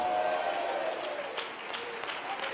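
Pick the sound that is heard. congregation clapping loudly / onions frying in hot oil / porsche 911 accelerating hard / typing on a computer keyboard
congregation clapping loudly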